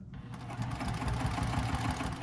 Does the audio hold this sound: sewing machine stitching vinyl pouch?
yes